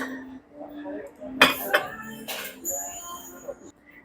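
Metal forks and dessert spoons from a cutlery set clink together as they are handled in a shop, a few bright separate chinks under soft background chatter.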